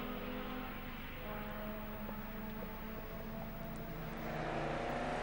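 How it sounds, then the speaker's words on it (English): A big MGB V8 race car runs at Castle Combe circuit, its engine a steady low drone that swells slightly as it approaches near the end, with no commentary over it. "David Tilley coming through here from Milton Keynes in the big MGB V8"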